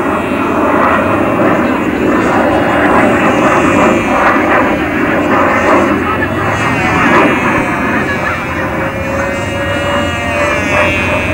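A propeller airplane drones loudly and steadily overhead at an aeroclub anniversary air show, a continuous engine roar filling the scene while an announcer speaks over it.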